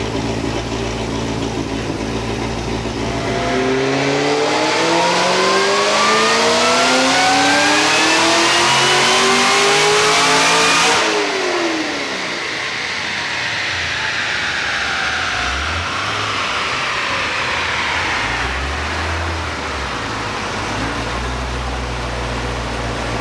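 A Kong 2650-supercharged Camaro ZL1 V8 revs hard, climbing steeply in pitch for several seconds before cutting off, then a few shorter throttle blips settle back to idle; loud, close, no talk.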